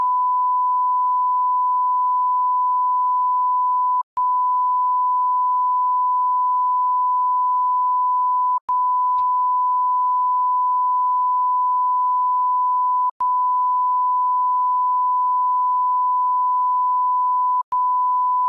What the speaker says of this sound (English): We're gonna beep for her.